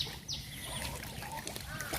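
Ducks make faint, scattered quacks and honks over low background noise, heard from a distance.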